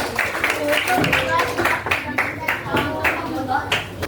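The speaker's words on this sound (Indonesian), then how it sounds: "Gue tepuk tangan buat kalian semua." Irregular clapping from a small group during a coding lesson, distinct claps close by mixed with voices talking over them.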